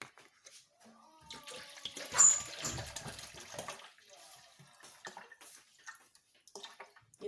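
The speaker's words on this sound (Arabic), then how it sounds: "وغادي نضيف الماء" Water pours into a lemon juice mixture, a soft splashing trickle that swells briefly and then settles into faint intermittent drips and movement, close and fairly quiet.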